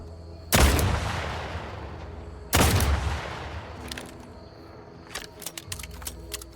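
Mines detonate twice with big booms in The Outer Worlds 2, each leaving a decaying rumble, followed by a scatter of quieter sharp clicks and small impacts.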